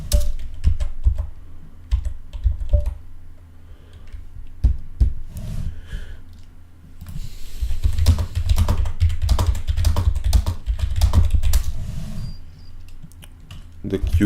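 Typing on a computer keyboard, close and fairly loud, in bursts of rapid key clicks with brief pauses, with a heavier, busier stretch in the middle and low thumps underneath.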